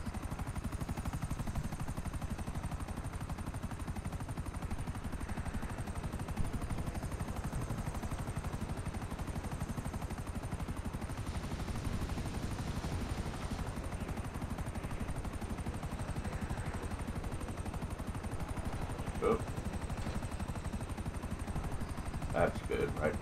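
A helicopter drones steadily in the game GTA 5 while scattered gunshots crack now and then, with a person talking over the continuous rotor noise.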